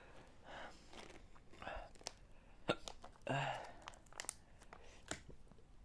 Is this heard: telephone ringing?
no